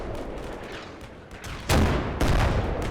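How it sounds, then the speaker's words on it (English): Artillery fire mission in the video game Combat Mission Black Sea: a low rumble of distant shelling builds into two heavy booming blasts about half a second apart, each followed by a lingering roar. "I think that's the start of his fire mission"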